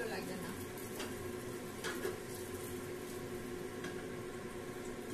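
Eggplant slices frying for begun vaja in a covered pan over a low gas flame give a soft, steady sizzle and faint bubbling that runs evenly throughout, with light clinks and occasional louder crackles.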